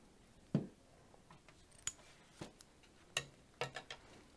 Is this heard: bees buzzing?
no